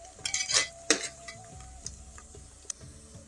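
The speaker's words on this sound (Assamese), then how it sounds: "তাৰপিছত এয়া পিঁয়াজখিনি ৰংটো চেঞ্জ হোৱালৈকে ভাজি ল'ম" Onions frying in oil with cloves and cardamom are stirred with a metal utensil, giving a few sharp scraping clatters against the pan over a faint, steady sizzle, up close.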